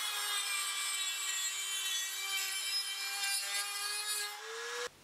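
Cutting and grinding steel parts for a heavy duty wire bender, a steady, continuous abrasive whine with a sustained low hum running close and loud for about five seconds before stopping abruptly.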